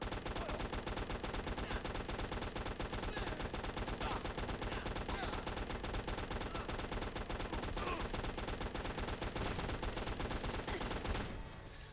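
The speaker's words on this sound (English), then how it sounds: "Not exactly the fastest killing light machine gun we've ever seen." Sustained, steady automatic fire from a DP-27 Degtyaryov light machine gun in Fallout 4, a continuous loud rattle of rapid shots for about eleven seconds before cutting off abruptly, with no voices.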